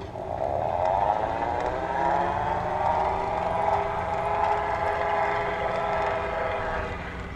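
An eProdigy Jasper electric bike motor running on throttle only in assist level 5 while climbing a hill gives a close, continuous whine whose pitch rises gradually and holds steady over a low rumble.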